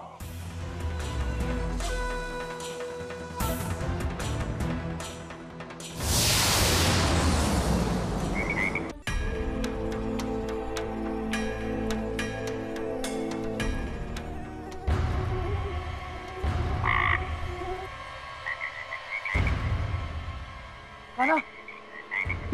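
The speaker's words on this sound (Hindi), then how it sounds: "ये मेंढक यहाँ कैसे आया?" Frog croaking, loud and close, in a drama scene near Mathura: repeated croaks in bursts across the stretch, mixed with music swells and effect booms, with a brief spoken word.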